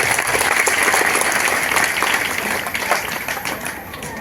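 Loud, sustained clapping from an audience at a school parent-teacher meeting during a medal presentation. The applause stays dense and steady, then eases slightly toward the end.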